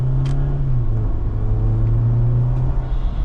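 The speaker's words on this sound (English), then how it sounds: "That's how it feels when you accelerate in this car." A 2026 Jeep Wrangler Rubicon under acceleration gives a steady, loud low engine drone with road rumble throughout, heard from inside the cabin with no talking.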